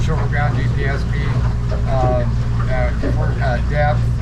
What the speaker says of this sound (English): This should be about a 40-mile-an-hour boat.